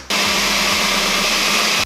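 Blender whirring steadily as it blends a thick smoothie with ice cubes and a dash of cinnamon, a loud continuous motor roar that starts abruptly and holds for nearly two seconds.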